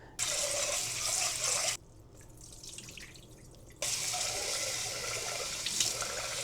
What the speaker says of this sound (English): I keep rinsing it about 3 more times until the water runs clear